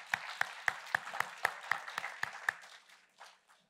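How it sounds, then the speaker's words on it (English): An audience claps during a church sermon with about ten sharp, evenly spaced claps. The clapping is fairly faint and slows and fades toward the end. "Somebody wanted to clap their hand, that's all right."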